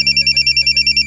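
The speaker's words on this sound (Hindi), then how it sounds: "अरे आपका फोन।" A phone rings in steady, rapid pulses of a bright electronic bell tone, close and fairly loud, repeating evenly throughout with no voices over it.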